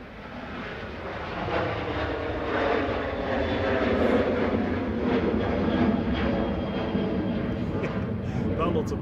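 A plane departing Manchester Airport on single-runway operation roars steadily, a loud sustained broadband engine rumble that swells slightly and holds throughout.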